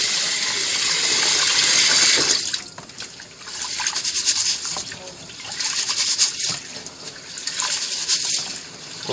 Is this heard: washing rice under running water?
yes